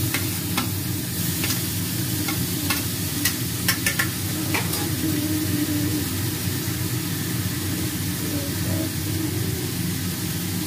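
Sliced carrot, onion and beans for momo filling tossed in a hot pan, a continuous close sizzle with a few sharp spatula taps and scrapes early on, then steady frying noise alone.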